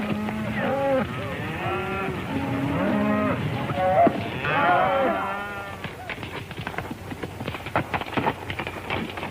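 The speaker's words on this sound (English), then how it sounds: "It's a fine-looking herd of cattle." A herd of cattle moos repeatedly, several long drawn-out calls overlapping in the first half, followed by rougher livestock noise and faint background sounds.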